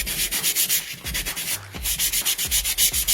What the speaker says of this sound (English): So we're gonna just rub these wrinkles right out.